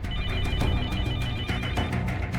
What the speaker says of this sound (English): The phone rang, and I got up and answered the phone